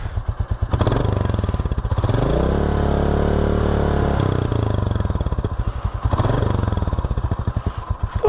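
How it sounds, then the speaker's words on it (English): A Royal Enfield Classic 350 motorcycle engine idles close by with a loud, steady thumping rumble and fast, even single-cylinder pulses that swell briefly a couple of times. "Now it does have a bit of a quiet rumble to it on idle, so that's alright."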